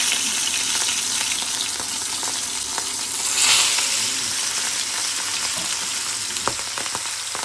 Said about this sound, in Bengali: এখানে আমি মাছগুলা ফ্রাই হবো।